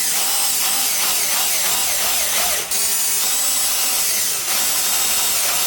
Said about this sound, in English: Next, I'm gonna drill 2 holes in this.